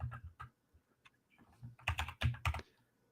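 Fingers type on a computer keyboard nearby in short uneven bursts of clicks, sparse at first and then a quick flurry of keystrokes, with no talking.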